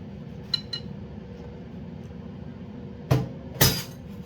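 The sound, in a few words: drinking glass breaking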